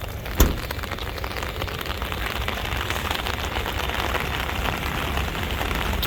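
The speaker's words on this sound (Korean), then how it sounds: "오늘 생각보다 비가 좀 많이 오네요" Heavy rain drums steadily on and around a Grand Starex 5-seat LPi van, a dense broadband patter with one brief sharp knock near the start and no voices.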